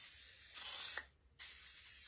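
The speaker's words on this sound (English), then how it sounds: "And all I do is spray this on here." A spray bottle of cleaner spritzes onto a Dollar Tree candle holder near a Scotch scrubbing pad, giving two close, loud hissing bursts with a short pause between them.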